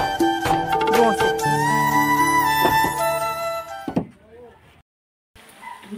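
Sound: door being pushed shut

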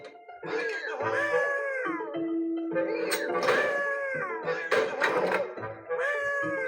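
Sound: cats meowing in video game Dark Riddle

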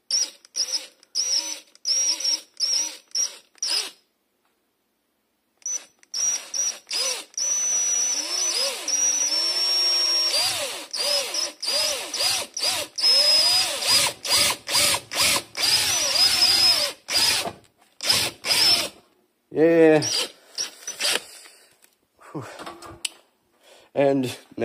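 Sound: power drill drilling copper for solar panel

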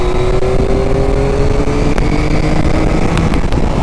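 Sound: Yamaha MT-09 V3 motorcycle accelerating, throttle opened

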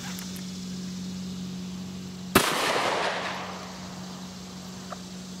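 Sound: 9mm gunshot fired with Federal HST ammunition

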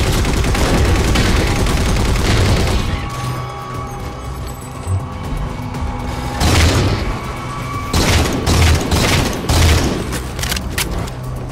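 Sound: incineration cannon firing in Halo 4 video game

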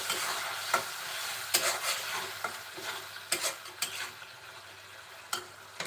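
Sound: prawn curry being stirred in a pan

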